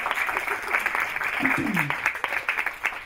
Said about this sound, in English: Go give her a round of applause